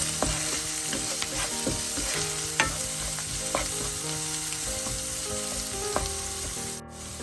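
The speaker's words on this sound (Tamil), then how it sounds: "உள்ளி இஞ்சி கொஞ்சம் பொரிஞ்சு கொண்டு வர கட்ட மிளகாய் தூள் சேர்க்கிறேன்" Garlic, ginger and chili powder sizzle and fry in a pan for devilled cuttlefish, a steady close crackle broken by occasional scrapes and stirring knocks.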